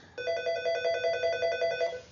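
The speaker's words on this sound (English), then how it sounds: "oh, phone ringy dingy," A telephone bell rings in a rapid, repeated electronic trill lasting about two seconds, steady and fairly close, with no voices over it.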